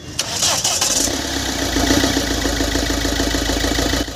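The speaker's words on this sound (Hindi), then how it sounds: "ये कार को हम स्टार्ट करके भी आपको दिखाएंगे" Mahindra XUV500 diesel engine being cranked and catching after a head gasket replacement, cranking chatter giving way to a loud, steady diesel idle close to the microphone.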